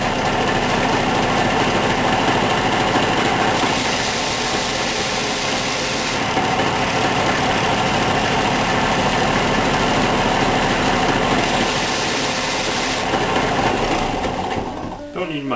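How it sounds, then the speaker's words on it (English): A bench sander grinds down a bandsawn guitar neck blank, its motor holding one continuous buzzing drone for about fifteen seconds before cutting off abruptly at the end. "I'm going to just put a little sand on the bench sander here"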